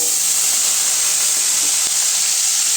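Onions hit hot oil after cinnamon and cloves for a Tamil tomato kuzhambu, a loud, even, continuous sizzling hiss with no pause and no talk.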